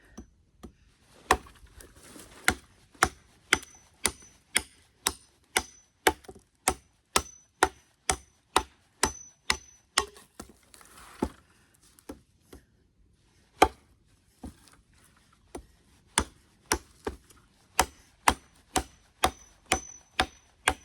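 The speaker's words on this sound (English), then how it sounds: "Do some more chopping here" Sharp, regular chopping blows of a Primitive Bear Knives Skunk Ape knife into a felled tree, about one or two per second, each with a bright ringing snap, repeated steadily with a few short pauses.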